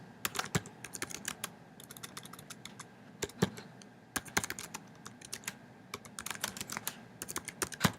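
Fingers tapping on a computer keyboard in quick irregular bursts of sharp clicks, close and fairly quiet, with brief pauses between runs and no voices.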